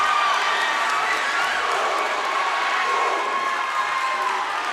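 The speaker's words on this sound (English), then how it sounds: "Addison Shelton hearing the boom, boom cheer from the Attleboro student body" Attleboro student body chanting a boom boom cheer at a high school volleyball match against Mansfield, a loud, steady crowd roar filling the gym without a break.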